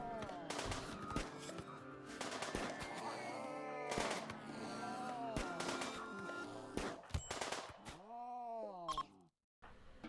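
Gunfire from several shooters in RimWorld, aimed at an attacking lynx, sharp repeated shot bursts over a busy game-music bed, with a strained groan-like tone near the end before a brief silence.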